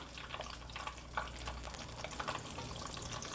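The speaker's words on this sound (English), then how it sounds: "And now we're gonna fry the other side as well." Chicken doughnuts frying in hot oil make a dense, crackling sizzle with scattered pops and bubbles, close and continuous throughout, with no one talking.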